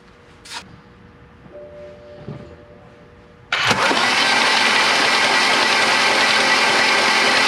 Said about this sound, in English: we're gonna crank the engine to 3 to 5 times, build up oil pressure, and then put the plugs back in and start it